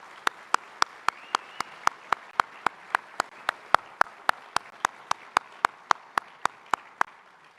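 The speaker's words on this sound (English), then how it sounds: "So a round of applause," Applause at a general session of the 2025 NSA annual conference, heard as one crisp clap after another in a steady, even rhythm of about three per second, fairly close, with no voices over it.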